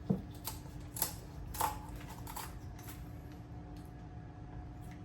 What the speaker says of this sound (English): you just cut along this backbone